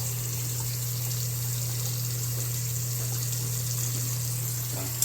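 Water runs from a faucet just fitted with a replacement Delta valve, turned on slowly, giving a steady hissing flow over a constant low hum from start to finish, with no talk.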